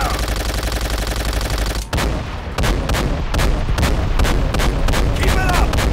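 Heavy gunfire in the video game Call of Duty: World at War, a dense roar of continuous automatic fire that gives way to rapid repeated bursts and booming shots, loud and close, with voices shouting.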